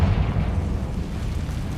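Confringo fire-blast spell in the Hogwarts Legacy video game, a deep rumbling explosion that booms at once and rolls on as a loud, low, sustained roar.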